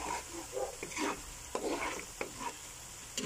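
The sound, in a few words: browning coconut milk in a pan to make latik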